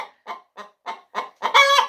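Five short clucks in an even rhythm, then a longer, louder squawking call from a nearby Isa Brown hen, no talking.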